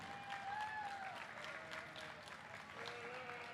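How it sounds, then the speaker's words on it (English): Crowd at a youth sheep show ring claps for the young exhibitors, a continuous spread of applause with faint whistle-like tones and murmuring voices mixed in. "Let's have a round of applause for all these kids before we go any further."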